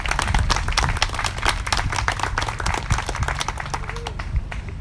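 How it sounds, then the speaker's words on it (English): A crowd at the 2022 Harvest & Herb Festival royalty crowning ceremony in Ada claps for the honorees' families, a dense burst of many hands that starts loud and slowly thins out, with no talking. "would you help me with a round of applause for these families?"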